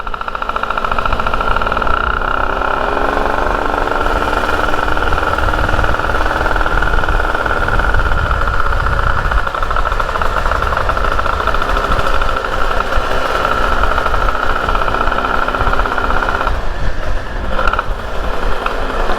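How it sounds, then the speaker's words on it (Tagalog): A small two-stroke engine fitted to a Toyota Vios runs steadily during a test ride, a loud continuous drone with a rough, knocking mechanical edge that stays constant throughout. "So test ride muna para parang break in kumbaga."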